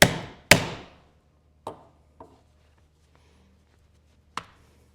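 A multi-tine stitching chisel struck to punch holes in a leather belt, a few sharp hammer knocks with ringing decay, two close together then spaced-out hits, close and loud with no talking.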